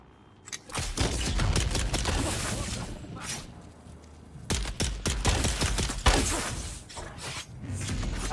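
Rapid bursts of gunfire in the video game Dune Awakening rattle out in two dense, loud volleys separated by a brief lull, with faint voices underneath.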